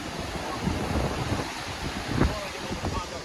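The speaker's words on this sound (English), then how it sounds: "It's still pretty rough, the weather, eh? Still pretty windy." Steady broadband wind rumble buffets the microphone at a WW2 battery site on Moreton Island, a dense low roar with occasional gusts and no clear voices.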